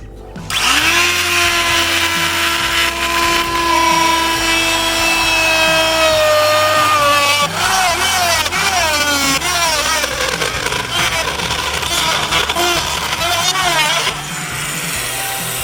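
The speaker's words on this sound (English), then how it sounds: "I've got another router over here with just a 3/8 round over bit that I'll go around that opening" A handheld router fitted with a 3/8 round-over bit trims the edge of an opening cut in wood for a sliding chicken door, a loud, sustained high motor whine with shifting pitch as the bit bites and chatters, then slightly quieter at the end.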